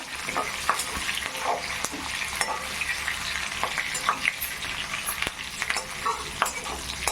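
Curry leaves fry in hot oil in a pan while being stirred for homemade mint coconut rice, a close, continuous sizzle broken by frequent scraping and clinking stirring strokes.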